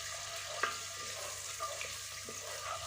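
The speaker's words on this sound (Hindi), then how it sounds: "हम इसमें डाल रहे हैं अदरक लहसुन का पेस्ट, तकरीबन 1 चम्मच के करीब। इसको हम करेंगे फ्राई।" Roughly a spoonful of ginger garlic paste frying in hot oil for Pakistani keema, giving a soft continuous sizzle close by with a few sharp stirring clicks of a utensil against the pan.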